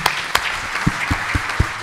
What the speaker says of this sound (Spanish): les pido a todos que despidamos con un muy fuerte aplauso